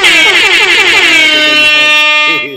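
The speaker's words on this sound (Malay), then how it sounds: "Okey, horn kita nak horn." A loud, blaring air horn sounds in one long sustained blast, close and dominant, that tapers off toward the end.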